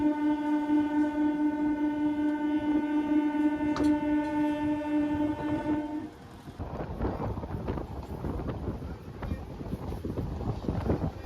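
A MEMU passenger train on the Bankura–Masagram line pulls away from a forest station: a steady horn-like tonal hum gives way to rising rumble and rattling of the carriages as it departs, with wind buffeting the microphone.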